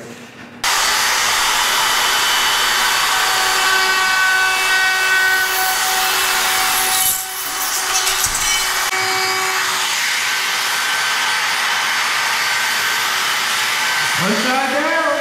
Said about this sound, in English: I'm gonna go ahead and start to router these out